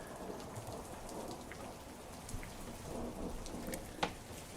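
Steady rain pours down on a surface with low rumbling beneath, alone with no voices, and a sharp crack near the end hints at a thunderstorm.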